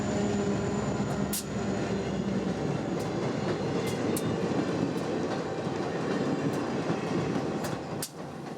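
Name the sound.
westbound Amtrak number 5 train passing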